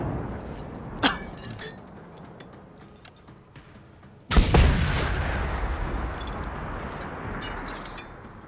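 Gunfire from a robot enemy in the video game Generation Zero: a sharp distant crack early on, then a loud heavy blast that booms and trails off into a long rumbling decay.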